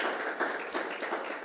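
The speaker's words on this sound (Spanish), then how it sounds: "Vamos a comenzar con un fuerte aplauso al Señor." A church congregation applauding, a steady wash of many hands clapping together at moderate distance, continuous for a moment with no voices on top.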